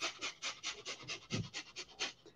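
Quick, rhythmic panting breaths from one person doing a stimulating breathing exercise in laughter yoga, about a dozen sharp puffs evenly spaced over a couple of seconds, close and fairly soft, with no talking.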